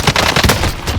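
A Tommy gun fired in the Warzone video game, a dense, loud burst of rapid automatic shots packed into about a second, with no talking.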